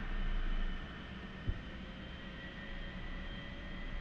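Steady jet engine hum of an A-4 Skyhawk in the DCS flight simulator game, a continuous moderate drone with a brief low thump partway through and no talking.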